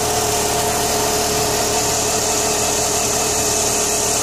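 A Chrysler PT Cruiser 2.4 turbo engine with a topside exhaust manifold idles steadily up close, a constant rumbling drone with a hissy high-end turbo whoosh, no voices.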